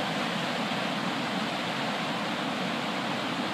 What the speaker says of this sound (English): And this is one of our beautiful waterfalls in Hamilton.